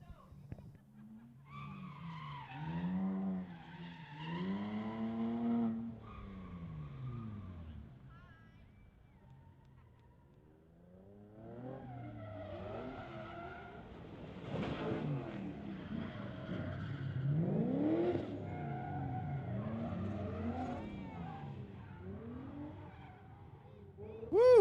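Drift cars, including a blue BMW, roll back in after a drift show, engines revving in rising and falling sweeps with tire squeal, loud and close, while voices carry underneath.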